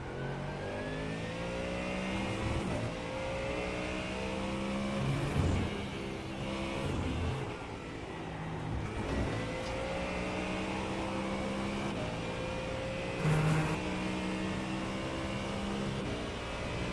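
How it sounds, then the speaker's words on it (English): Racing video game car engine revving high and bouncing off the rev limiter, a steady buzzing whine with repeated stuttering cuts as gears change, loud and continuous throughout. "Hitting that rev limiter wasn't ideal"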